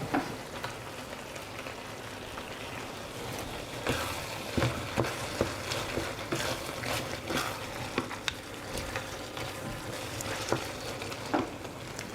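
Butter frying in a pasta pan while being stirred, a steady dense sizzle with scattered scrapes and clicks of the utensil throughout, close and continuous without talk.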